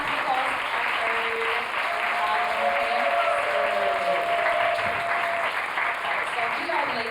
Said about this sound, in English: Can we get a round of applause for our third